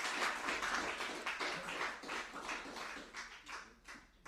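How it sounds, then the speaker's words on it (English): Applause from a seated audience at a talk, a dense patter of many hands clapping steadily and fairly close throughout, with no voices over it. "Give her a round of applause."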